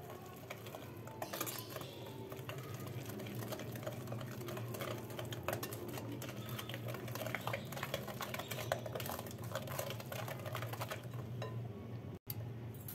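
Cake batter with coffee added being mixed in a bowl, a continuous soft scraping and clinking of utensil against the dish, steady and close, with no talking.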